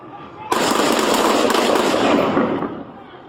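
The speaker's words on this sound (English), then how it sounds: "Shots fired from my partners." Police officers fire on an armed suspect in a dry wash, a dense loud burst of overlapping shots lasting about two seconds before trailing off.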